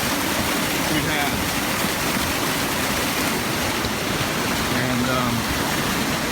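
Heavy rainwater pours and rushes into culverts at a rural California ranch after a storm season of over two feet of rain, a steady, dense roar of flowing water throughout, with a brief spoken word over it.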